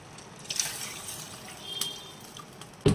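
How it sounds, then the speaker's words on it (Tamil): Water poured into a pressure cooker holding rice and dal for sambar rice, a steady splashing trickle that swells and fades, ending in a sudden close knock. "இதில் 5 டம்ளர் தண்ணி இதுக்கு ஊற்றிடும்"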